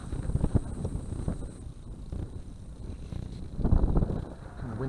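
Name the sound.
wind blowing outdoors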